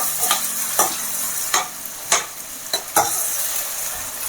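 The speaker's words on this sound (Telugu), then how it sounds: "కొంచెం ఈ పచ్చిమిర్చి, ఉల్లిపాయ ఇందులో వేసేసుకొని ఇవి మంచిగా ఫ్రై అయ్యేంత వరకు ఒక 5 నిమిషాలు ఫ్రై చేసుకుందాము." Onions and green chillies fry in a pan under a steady high sizzle, broken by sharp scraping stir strokes at irregular intervals, close and without talk.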